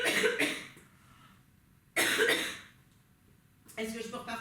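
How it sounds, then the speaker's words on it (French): Several close coughs from a woman in bursts: a cough at the start, a second harsh cough around the middle, then a third starting near the end, with quiet pauses between. "il faut que je tousse"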